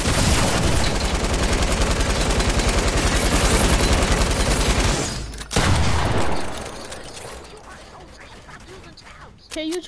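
Light machine gun fire in a video game, a loud sustained rattling burst of rapid shots over the first five seconds, then a sudden cut to quieter, fading action noise with a few faint impacts at the end.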